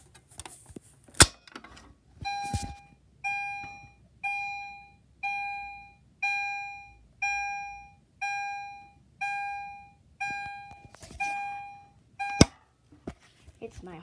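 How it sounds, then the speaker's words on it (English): A homemade fire alarm panel sounds a repeating electronic tone, about ten evenly spaced beeps with sharp attacks and decaying tails. Loud clicks and handling noises come before and after the beeps. "It's my homemade fire alarm panel."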